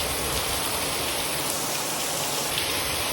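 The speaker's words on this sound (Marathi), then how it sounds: "बाहेर एवढा मस्त पाऊस पडतो ना" Steady rain falls outside during a monsoon downpour, a dense, even hiss of drops on surfaces that continues unbroken and fairly loud throughout, with no talking.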